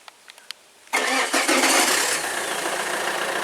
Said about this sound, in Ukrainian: Заглуши і знову запускай.